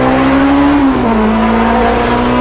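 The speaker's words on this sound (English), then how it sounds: "So this car is extremely loud right now." A Honda S2000 with a K24 engine swap and a loud, nearly straight-piped exhaust drones close by, a steady, buzzy tone that dips slightly partway through, heard alone without speech.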